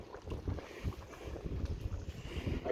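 Wind gusting outdoors beside a crab curry being cooked in Durban, a steady rumbling buffet against the microphone with low-frequency noise throughout, no speech.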